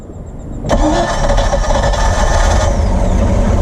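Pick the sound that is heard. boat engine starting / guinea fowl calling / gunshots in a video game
boat engine starting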